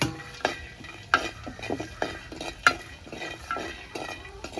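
Peanuts roasting in a pan are stirred with a utensil, giving close repeated scraping and rattling strokes with a couple of sharp metallic clinks over a light background sizzle.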